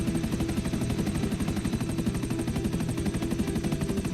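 Helicopter in the GTA Online video game with gunfire, a dense steady rotor thrum overlaid by rapid, evenly spaced machine-gun bursts, loud and continuous throughout.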